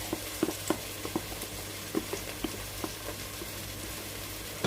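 Tomato going into a pan of sizzling onions, garlic, leek and ginger for a fish broth with pistachio dumplings: a soft, steady sizzle with a few light clinks and taps from stirring, fairly quiet and close, with no voices.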